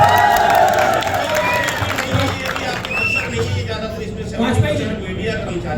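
A large, noisy crowd fills a shopping mall at a movie trailer launch with loud babble, shouts and scattered cheering, a constant dense hubbub close around, with people talking through it.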